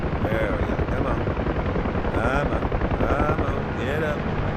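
A helicopter holds a hover during nose-in hover turn practice, with a loud, steady rotor thump and a whining turbine pitch that rises and falls under it, heard close up from inside the cabin.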